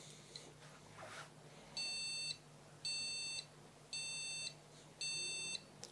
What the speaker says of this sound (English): Let's take the memory out. And we should hear beeping